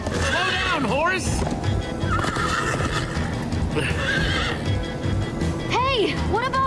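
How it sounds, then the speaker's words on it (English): A galloping horse whinnies several times in Minecraft: Story Mode, its neighs rising over steady hoofbeats and a busy game soundscape. "Slow down, horse!"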